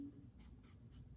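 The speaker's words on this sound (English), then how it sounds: "So I can write it down here." Pencil writing numbers during a fourth-grade math lesson: three short, close scratching strokes in a quick row over a quiet background.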